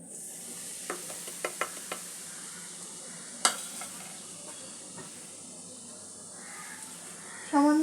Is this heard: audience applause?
no